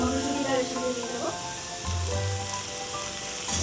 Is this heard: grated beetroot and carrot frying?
yes